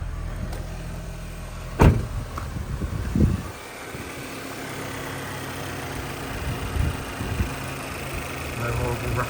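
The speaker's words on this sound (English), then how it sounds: "You just hear the injectors and the cooling fan." A Vauxhall Astra K engine idling after an oil and filter change, a soft steady hum with the faint ticking of injectors and the whir of the cooling fan, a sharp knock early on and someone talking over it.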